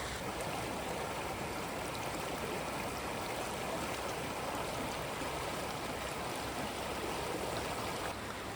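A river flowing through a rural Tamil Nadu village area, its steady broadband rush of water continuous and close throughout, with no voices.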